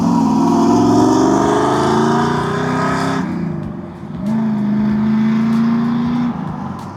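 A 1968 Chevrolet Camaro pulling away, its loud engine roar rising in pitch through one gear, a brief dip at a shift, then another sustained pull before fading slightly.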